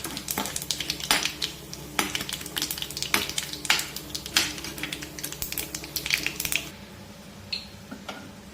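A tadka for tomato rasam, with fenugreek in the tempering, fries and sizzles in a pan in a steady close hiss, with frequent sharp pops and the clink of a stirring spoon, then settles quieter near the end.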